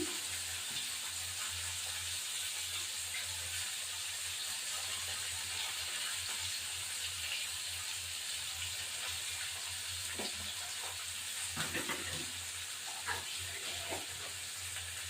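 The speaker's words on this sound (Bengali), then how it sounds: "এটা ভাজা ভাজা হোক" Onion, tomato and green chilli fry in a pan with a soft, steady sizzle, quiet and continuous, broken by a few brief clinks and stirring sounds near the end.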